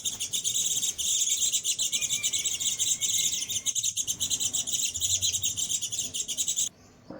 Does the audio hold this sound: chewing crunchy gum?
no